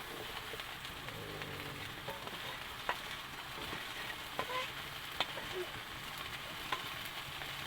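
Food frying in a pan on a home kitchen stove while being stirred, a soft steady sizzle with occasional sharp scrapes and clinks of the utensil, faint and close.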